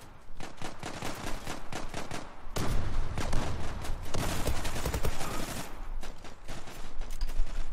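Sustained bursts of rapid fully automatic Glock-18 pistol fire in the online shooter Zula, loud and dense, with a brief break before the shooting resumes with more force.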